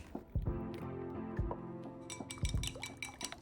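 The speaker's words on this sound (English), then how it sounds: "Crack 3 eggs." Three eggs are cracked for a tofu and egg dish, giving sharp shell taps against a bowl followed by wet drips and clinks, heard close and alone in a quiet kitchen.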